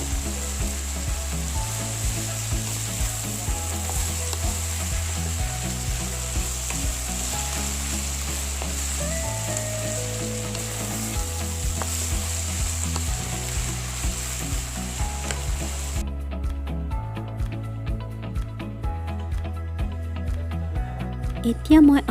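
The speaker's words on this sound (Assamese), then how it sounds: "এইখিনি লৰাই লৰাই অলপ সময় ভাজি ঢাকোন এখন দি ঢাকি ৰাখিম" Fiddlehead fern greens fry in a pan and are stirred, giving a steady close sizzle that runs under continuous background music.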